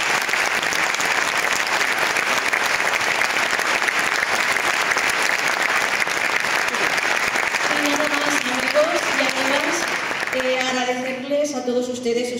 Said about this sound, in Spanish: les voy a pedir un fuerte aplauso para la orquesta de Pulso y Púa, La Rondalla